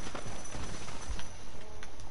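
Horse hooves clip-clop in a steady walking rhythm in Red Dead Redemption 2, close and continuous over a low outdoor game ambience.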